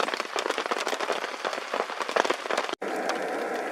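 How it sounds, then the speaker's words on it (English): Rain patters densely and steadily on a tent at a backcountry camp, a close, continuous crackle of drops with brief shifts in texture and a short break near the end. "It's raining out there."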